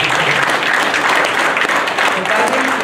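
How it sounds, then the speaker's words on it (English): A crowd at a welcome home ceremony for a returning service member claps loudly and continuously at close range, with some chatter blending into the brief burst of applause. "Give a round of applause, everybody."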